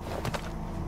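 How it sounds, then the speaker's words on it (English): Two soft footsteps land close together in the video game Cyberpunk, a quick muffled pair over a steady low ambient drone. "Hear that? Footsteps."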